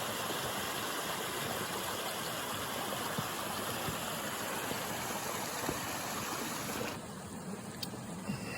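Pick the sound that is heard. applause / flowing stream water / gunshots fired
flowing stream water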